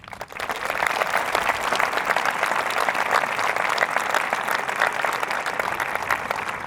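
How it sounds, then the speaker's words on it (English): A crowd claps steadily and loudly at a high school graduation ceremony, a dense wash of applause that holds at an even level from start to finish. "give yourselves a big round of applause because you are all incredible."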